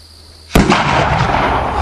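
A homemade steam-powered rocket fires on a farm with a sudden loud, close blast that cuts through a quiet hiss, then a sustained roaring rush of escaping steam that holds for over a second.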